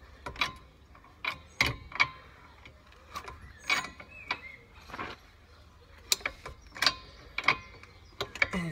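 A jack is pumped up gently during a car control arm replacement, making a steady series of metallic clicks and ratcheting strokes at an even, unhurried rhythm close by.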